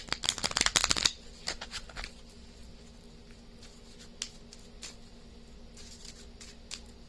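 A deck of tarot cards is riffled in a quick burst of crisp flutters, then a few softer isolated card taps and slides follow in a quiet room.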